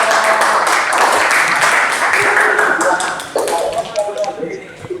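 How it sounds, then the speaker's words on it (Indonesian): A classroom group claps for presenting students, dense steady applause filling the room for about three seconds before thinning into scattered claps and shuffling, with a voice speaking over the tail. "Tepuk tangan untuk kelompok 1"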